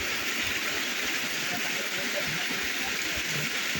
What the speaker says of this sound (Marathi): किती छान धबधबा वरून वाहत येत आहे.